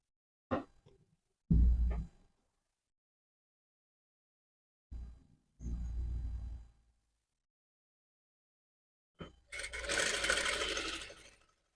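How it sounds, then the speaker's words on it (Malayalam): A sewing machine stitching the neck of a nightie's back piece, running in short bursts of a few seconds separated by silent pauses, close and clear, the last run the loudest and busiest. "പുറകു പീസിൻ്റെ കഴുത്ത് നമുക്ക് ആദ്യം തയ്ക്കാം."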